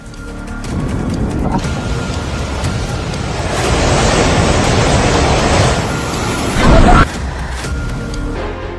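Flood water rushes in Nepal, giving a loud continuous roaring wash that swells in the middle and carries a sharp burst near the end. It sounds wind-buffeted and close.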